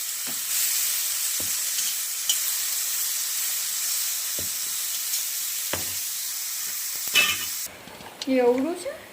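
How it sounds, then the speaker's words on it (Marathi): Tomatoes and ginger fry in a pan, a continuous loud sizzle and hiss punctuated by a few soft stirring clicks, ending with brief clattering near the close. "टमाटर घेतले आहे आपण त्याला सुद्धा छान मस्त फ्राय करून घेऊया टमाटरच्या सोबत अद्रक सुद्धा टाकूया"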